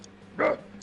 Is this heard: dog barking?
yes